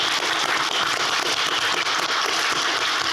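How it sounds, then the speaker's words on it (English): Sustained, dense applause from an audience at a signalling question-and-answer session, loud and steady throughout with no speech over it. "So I think that deserves a round of applause."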